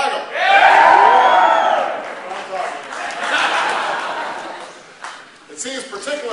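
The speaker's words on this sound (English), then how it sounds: "I noticed that the Boston crowd's a little rambunctious tonight." A rambunctious crowd at a St. Patrick's Day evening event at the White House cheers, whoops and laughs loudly, swelling early then settling into a steady rowdy murmur.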